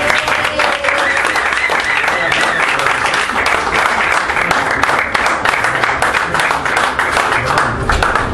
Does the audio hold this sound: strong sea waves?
no